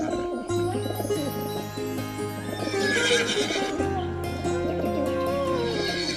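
A horse whinnies repeatedly, a loud close neigh rising and falling over several seconds, with hoof clip-clop and musical tones underneath.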